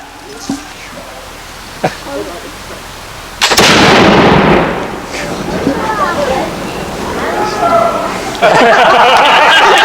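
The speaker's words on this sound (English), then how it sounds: "Firing wall gun!" A flintlock wall gun fires at a reenactment garrison: one loud, sharp blast with a long rolling echo, followed by excited voices talking and cheering and then a second loud burst of noise.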